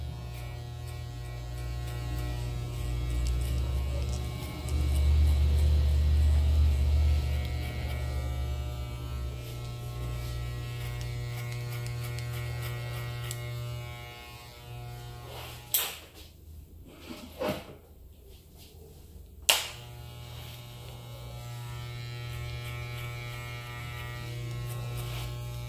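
Electric hair clipper fitted with a number 3 guard trimming the neckline during a traditional graduated haircut, a steady close buzzing hum running throughout, briefly interrupted near the end by a few clicks and knocks.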